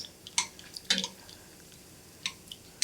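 Udon noodles being ladled out of cooking water, with a few quiet drips, splashes and light clinks of the ladle spaced across an otherwise calm kitchen.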